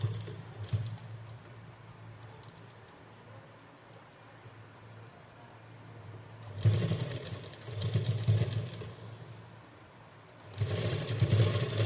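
A sewing machine double-stitches an umbrella frock, whirring in two short bursts over faint background noise and a steady low hum, with quiet gaps between runs.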